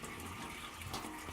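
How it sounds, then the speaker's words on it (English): Rusty engine coolant from a Mazda RX7 engine block pours out of a 14 mm drain plug into a drain pan, a steady close splashing trickle with no voices. "There's a whole bunch of coolant mess happening"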